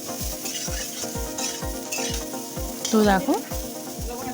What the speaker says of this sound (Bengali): এখন কপিগুলো একটু হালকা নুন হলুদ দিয়ে তারপর খুব ভালো করে ভেজে নেব।